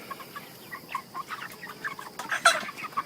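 Five-week-old chickens clucking in short soft bursts, several birds calling near and around, with a few sharper peeps toward the end.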